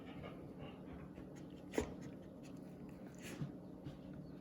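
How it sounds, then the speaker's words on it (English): A dog licks close by with soft wet sounds, along with faint whimpers and panting, under a quiet indoor background with no clear speech. "one of my dogs is licking me and making noise"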